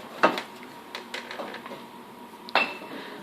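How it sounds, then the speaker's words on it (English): A metal condenser cover is removed from a Sorrento vending machine, with two sharp metallic clanks at either end and softer rattles and handling noises between them in a quiet room. "When all the screws are removed, take the condenser cover off like this."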